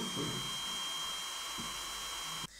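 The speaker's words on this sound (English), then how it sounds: "In the process of discharging it makes a little noise." An ISDT LiPo battery discharger working through a 4-cell pack at 6 amps gives off a steady, high-pitched electronic whine with a constant tone, close and alone, cutting off sharply at the end.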